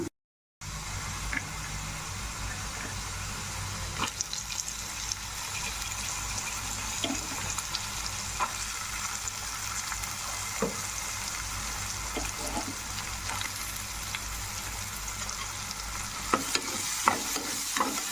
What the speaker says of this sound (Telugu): మొత్తం మిక్స్ చేసుకున్నాం ఆనియన్స్ మగ్గిపోయాయి కదా ఇప్పుడు పచ్చెనపప్పు యాడ్ చేద్దాము